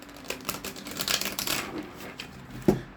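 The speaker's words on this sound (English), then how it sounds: "Let me get you some good shuffles in, and we will begin your reading." Tarot cards being shuffled for a reading, a steady run of soft papery riffling and flicks, fairly close, ending in a sharper tap as the deck settles.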